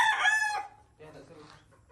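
A native rooster crows loudly and close by on a small backyard farm kept for fighting roosters and hens, one bright sustained crow followed by quieter clucking and rustling.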